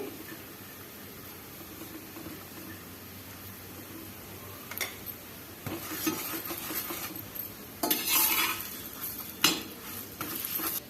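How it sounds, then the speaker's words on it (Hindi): A bottle gourd (lauki) paratha roasts with ghee on a hot griddle. A soft, steady sizzle carries intermittent scraping and pressing sounds that grow louder and busier toward the end. "दबाते हुए पराठे को सेकेंगे। दूसरी साइड से भी थोड़ा सा घी लगा देंगे।"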